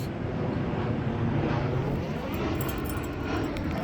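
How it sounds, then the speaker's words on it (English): A large airplane flies overhead outdoors near a yard, a loud, broad, continuous rumbling roar that holds steady throughout. "It's a humongous plane, boy."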